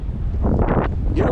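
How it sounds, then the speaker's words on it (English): Wind buffets the microphone during a parasailing ride in Jamaica, a steady, close, fairly loud rumbling roar that fills the whole brief moment. "The wind is kicking up."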